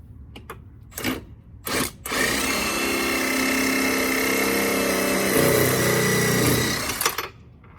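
A power tool, likely an impact gun or drill, runs steadily for about five seconds while unscrewing a shock absorber bolt on a C5 Corvette during a Koni shock install, after a few short knocks and bursts near the start.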